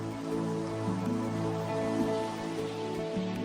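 Steady rain pattering down over a constant background hum, with faint droplet taps scattered throughout; no voices.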